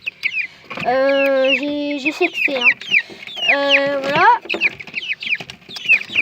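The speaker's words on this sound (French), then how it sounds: "Ça, c'est une petite poule." A small hen clucking up close, with several drawn-out harmonic clucks and calls in quick bursts, alongside someone speaking briefly in French.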